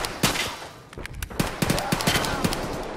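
Gunfire in the video game Escape from Tarkov crackles as a string of sharp shots, some distant and some closer, over a steady noisy background, with no speech.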